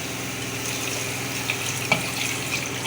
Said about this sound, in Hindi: अब मैं इसके अंदर ये तकरीबन 2 गिलास पानी है,